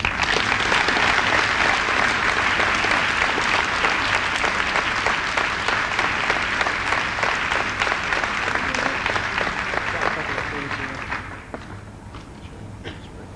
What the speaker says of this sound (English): Let's give a round of applause to Chelsea's 1989 Army Reserve National Scholar Athlete Award winners, Kim Easton and Eric Freisinger